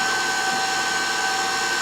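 Electric mixer whisking a Crisco mixture in a bowl for Sicilian fig cookies, a steady, fairly loud motor whine with a constant pitch throughout, with no voices.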